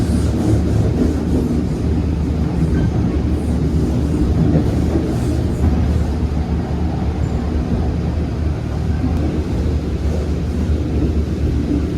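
A Bandung Raya commuter train rolls toward Padalarang station with a continuous heavy rumble and low mechanical drone, loud and steady from aboard, with faint wind buffeting over the run.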